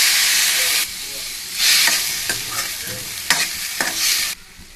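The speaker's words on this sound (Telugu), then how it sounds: "ఇది ఆయిల్లో కాస్త ఫ్రై చేసుకోవాలి." Frying and stirring in a pan of hot oil while coriander, mint and tomato go in for a paneer curry: loud steady sizzling with scraping stirs, a quieter pause, then renewed bursts of sizzle and clatter before fading.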